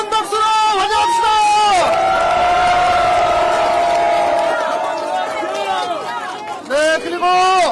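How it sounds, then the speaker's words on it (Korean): A crowd at a political campaign visit in Jinan County, North Jeolla, cheers and shouts loudly to welcome a guest, with strong raised voices carrying over a continuous roar of noise. "뜨거운 박수로 환영합시다."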